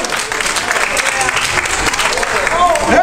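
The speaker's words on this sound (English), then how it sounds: "Anytime you want to eat, clap your hands and say yes." A church congregation claps hands in a burst of dense, continuous applause, with voices calling out throughout.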